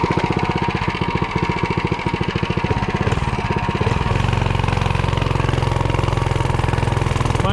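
A Coleman CT100U mini bike engine runs with its throttle screw fully removed, chugging in a rapid, uneven beat before settling into a steadier, higher idle, close and loud throughout.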